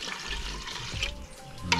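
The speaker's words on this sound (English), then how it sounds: "I'm going to add some water to that right now." Water pours and splashes into a cooking pot holding seasoning, a steady close running gush with a brief clink near the end, with no talking.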